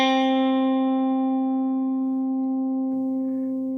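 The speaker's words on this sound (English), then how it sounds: "It's the sound of a note on guitar." A single guitar note plucked once and left to ring, its bright attack fading into a long, steady sustain that slowly decays with no rhythm.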